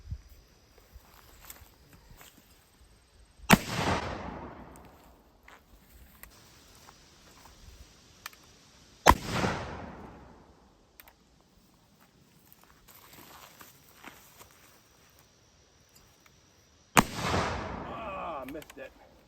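A Belgian muzzleloading shotgun fires three sharp, loud blasts spaced several seconds apart outdoors, each followed by a brief decaying echo, with quiet ambient gaps between shots.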